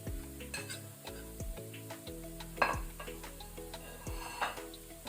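Tomato frying with coriander and cumin powder in a pan over low flame, a steady sizzle with repeated scraping and stirring clinks of a spoon against the pan, close and alone with no talk.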